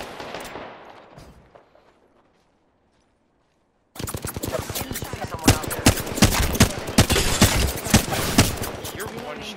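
Gunfire in the video game Apex Legends, with rapid bursts of automatic shots cracking close and loud after a brief quiet gap, and a voice speaking over the shooting.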